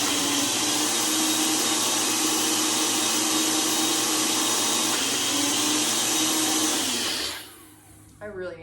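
A household kitchen blender whirs loudly and continuously at close range for about seven seconds, then cuts off and winds down to near quiet.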